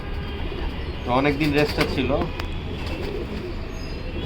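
A Kitel racing pigeon coos softly in short throaty bursts near the listener while someone talks over it, with faint background hum.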